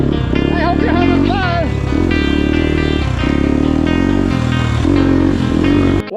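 A Honda CRF 300L dirt bike ridden hard off-road through jungle, its engine droning loud and close with rising and falling revs as it works over rough ground, steady throughout.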